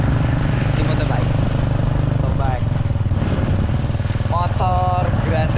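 A grandong motorbike engine runs steadily at a palm oil plantation, a loud, continuous low rumble close by while people talk over it.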